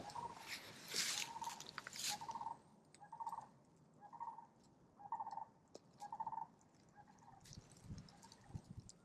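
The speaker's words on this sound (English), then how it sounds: "Got the cranes singing over there right now." Cranes call outdoors at a wilderness campsite, a series of rolling bugling calls repeated at intervals from a moderate distance, with occasional nearby rustling.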